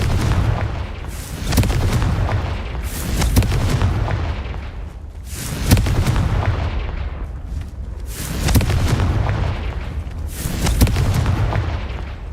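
Blasting-spell explosions in a Harry Potter video game boom out in a run of heavy, loud bursts roughly every two to three seconds, each trailing into a rumbling decay over a low background.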